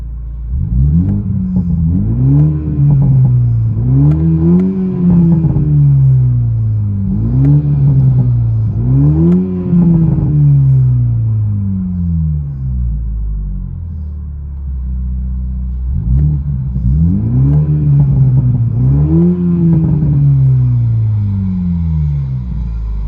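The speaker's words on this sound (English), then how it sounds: "Those pops are a lot louder." A 2021 Toyota Supra GR with a straight-piped dual exhaust revs repeatedly and loudly up close, each rise and fall of the engine note repeating in a steady cycle, with a short pause before a final run of revs.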